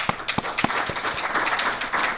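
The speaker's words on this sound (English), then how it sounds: "I want to give him a round of applause as well" Applause at a Women's Suffrage Centennial kickoff celebration in Massachusetts, honoring Representative Cassidy: a room of scattered clapping hands with several sharper claps early, settling into a steady, moderately loud patter.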